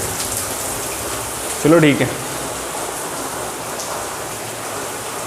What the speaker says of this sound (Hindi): बारिश बहुत खींच के आ रही है